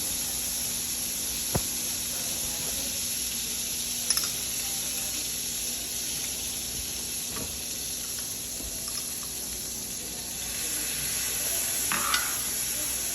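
Garlic and cream spinach frying in whipped olive oil in a pan, a steady moderate sizzle running throughout with a few faint clinks and stirring scrapes.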